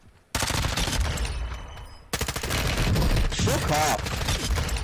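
Sustained rapid gunfire in a first-person shooter game, loud and nearly continuous, breaking briefly before resuming, with a voice shouting over it.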